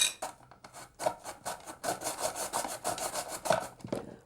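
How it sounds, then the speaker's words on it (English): Carrot rasped across the carrot-grating blade of a Japanese mandolin grater, a close, loud series of rhythmic scraping strokes that repeat steadily for several seconds with no talking. "Japanese carrot grater, all the way from Tokyo. This is one of those sort of mandolins"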